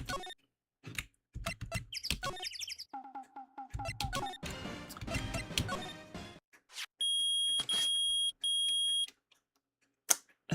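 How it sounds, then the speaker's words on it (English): A metal detector in the Ace Attorney video game beeps in loud, steady electronic tones, three sustained beeps near the end, after a stretch of game music and jingles. "It's beeping! The metal detector found something!"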